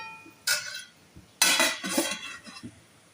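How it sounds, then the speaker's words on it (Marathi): A lid set onto a pan of jaggery sheera, giving two clattering metallic clinks, a short one and then a louder, longer rattle that settles with a few small taps, close by with no voice. "झाकण ठेवत आहे"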